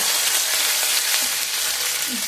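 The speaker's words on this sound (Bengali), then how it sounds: "এক চামচ আদা আদাটা আমি হালকা নেড়ে নিয়ে" Ginger sizzles in hot oil in a frying pan as it is stirred lightly, giving a steady, dense hiss with a few soft scrapes, close and continuous.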